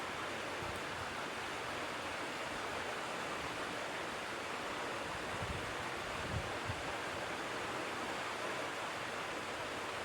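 A mixer grinder whirs steadily, grinding green chillies and ginger for a buttermilk curry. The wash of noise is even and muffled and runs unbroken for the whole stretch.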